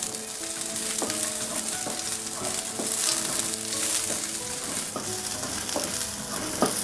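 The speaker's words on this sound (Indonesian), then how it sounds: "masukkan bawang putih, masukkan bawang merah dan jahe, kita tumis-tumis sebentar saja" Garlic, shallots and ginger sautéed in hot oil for a goat meat dish, a loud continuous sizzle punctuated by sharp spatula clacks against the pan at irregular intervals, with no talking.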